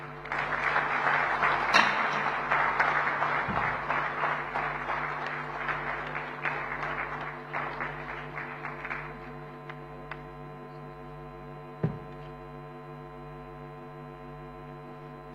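Audience applause at an Indo-American Chamber of Commerce national convention swells loudly after an address, then thins and fades over several seconds, leaving a steady low hum with a few scattered late claps.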